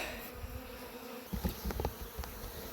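A dense, steady buzz of many bees droning close by inside a bucket, with a few soft knocks and thumps partway through.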